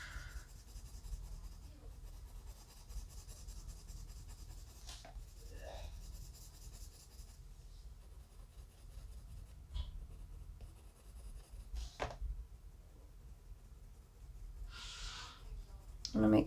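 A graphite pencil shades layers onto paper in steady, close scratchy strokes that continue for a long stretch, broken by occasional breaths and small handling noises, with no speech.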